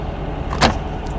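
A 1971 VW Squareback engine runs at a high idle, a low steady rumble heard close and loud, with a brief mechanical clunk or rattle cutting across it midway.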